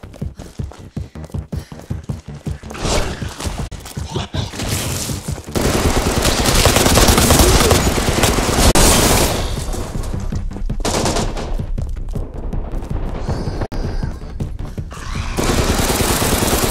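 Turret fire in Resident Evil RE:Verse: loud, close bursts of rapid automatic shots, with a dense continuous stretch in the middle and short gaps between volleys.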